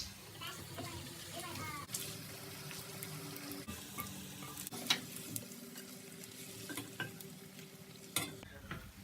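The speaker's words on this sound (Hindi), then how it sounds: "ये देखिए हमने तल ली है।" Besan pakoras fry in hot oil with a steady, dense sizzle, broken now and then by the scrape and clink of a stirring spoon against the pan.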